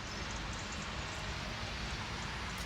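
Steady, even hiss of rain falling, broadband and continuous throughout with no voices.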